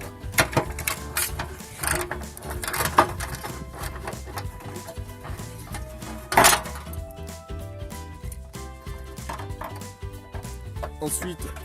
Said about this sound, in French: avec une clé de 10, vous dévissez ces vis